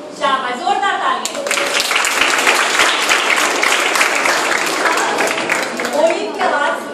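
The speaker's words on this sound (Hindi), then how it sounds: "शाबाश, जोरदार ताली।" Children applaud at a traffic safety awareness camp, loud sustained clapping from a crowd that fills the room, with a voice speaking briefly at the start and again near the end.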